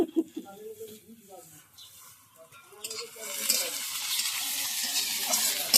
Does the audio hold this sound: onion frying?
yes